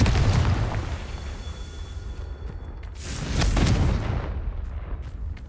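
Deep booming blasts of the Confringo spell in Hogwarts Legacy during a winter class, two heavy rumbling explosions a few seconds apart with sparkly crackle, loud and close with no talking.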